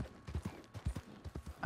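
Hoofbeats from a horse in Red Dead Redemption 2 Online, a brief quick run of clip-clops at a moderate, fairly close level.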